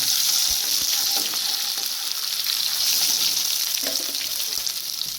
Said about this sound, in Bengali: পেঁয়াজ ভাজা হয়ে গেছে, এখন আমি রসুন বাটা দিয়ে দিচ্ছি।